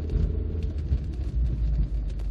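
A 1990 Nissan Bluebird T72 1.8 GS on the move gives a steady, close, low engine and road rumble that holds without a break, with no talk over it.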